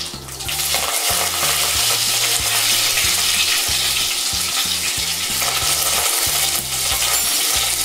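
Asafoetida and curry leaves crackle loudly in hot oil for a sushila breakfast dish, an intense, continuous close-up sizzle with rapid popping spatters throughout and no talk.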